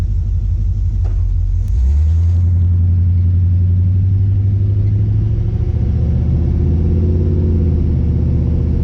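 A classic Camaro engine, recently tuned, idles with a steady low rumble, close and loud, holding a smooth deep drone throughout with no talk.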